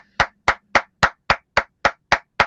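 Nine slow, evenly spaced claps from a single pair of hands, close and crisp, ring out alone in tribute to sound engineer Mark Rivet of the Hamilton tour.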